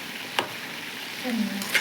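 Turmeric and chilli powder being stirred in a frying pan for a village-style home dish, giving a soft sizzle with a couple of sharp spoon taps against the pan.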